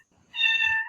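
Indoor house cat giving a single clear, moderately loud meow close by, a short tonal call with no voices over it.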